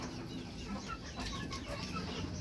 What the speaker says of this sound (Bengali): এখানে চোদ্দোটা আছে ডিম পাড়া মুরগি